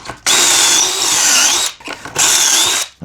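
A power drill drives screws into a wooden cabinet in two loud, close bursts of whirring, with a short pause between them and nobody talking.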